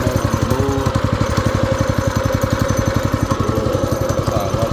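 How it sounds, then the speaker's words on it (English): A go-kart engine runs steadily with a tight clutch and chain, a loud, close, rapid even chugging that keeps the same pace throughout with no talk. "It's that clutch though, you hear it. It's tight too."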